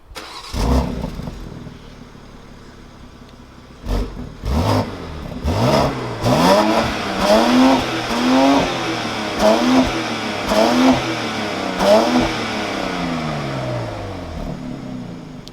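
A BMW X3 M with an OPF filter, driven in efficiency mode, revs repeatedly: a starting burst, then a rising series of loud, close engine sweeps in regular pulses with no talk.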